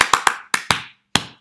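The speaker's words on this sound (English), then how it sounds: "I cannot clap this either." Six sharp hand claps in an uneven rhythm pattern for a children's music game, close and loud, with two quick pairs, a gap, then a pair and one final clap after a pause.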